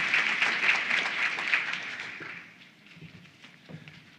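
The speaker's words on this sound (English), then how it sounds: "let's share our applause for these 5 and all the rest of our grantees" Audience applause at the Legal Services Corporation 50th Anniversary Forum for five grantees: dense, steady clapping from a room full of people that thins and fades away over the last couple of seconds.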